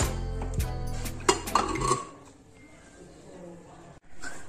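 A metal pressure cooker lid is opened after the cooker has cooled from boiling sweet potatoes: a few close clanks and clinks of metal in quick succession, then only quiet room noise.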